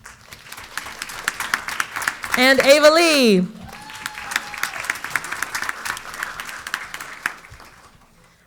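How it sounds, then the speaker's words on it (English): A school board meeting audience gives a short burst of applause after a student leader's name is read, crisp clapping that swells and stops, with someone speaking over and between the claps. "please, just a brief applause after each name"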